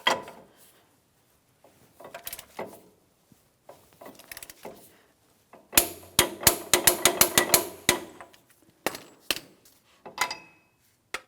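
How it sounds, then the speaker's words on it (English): Torque wrench tightening the axle nut on a 2007-2014 GMC Sierra 2500 HD to 188 foot-pounds, a burst of rapid, closely spaced metallic clicks near the mic after scattered scrapes and handling knocks. "I'm going to torque this to 188 foot-pounds."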